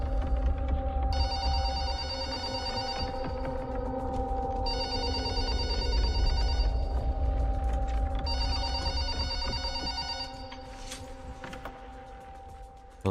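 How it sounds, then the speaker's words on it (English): An old-style telephone bell rings in the Rec Room video game, three long repeated bursts of rapid metallic trilling over a low droning background, fairly loud and without talk. "Adams, I'm glad you finally decided to pick up the phone"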